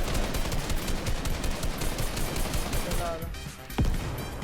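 Game gunfire rattles in fast continuous bursts, loud and close, with a heavier blast near the end suggesting a rocket, while players talk over it.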